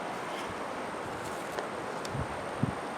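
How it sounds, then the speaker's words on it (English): Wind blows in a continuous broadband rush against the microphone, with faint rustling and a couple of soft knocks. "So it's windy today."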